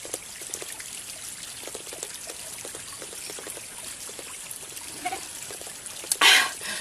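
Mountain water trickles and dribbles steadily close by in the mountains of Aurora, a thin continuous patter, with a louder splash near the end as it is caught by hand; faint voice in the background.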